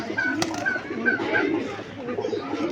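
Giribaj pigeons coo softly in a repeated low murmur, with a faint background voice and rustling nearby.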